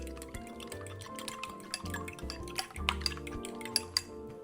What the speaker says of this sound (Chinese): 全部敲入後，再稍微拌一拌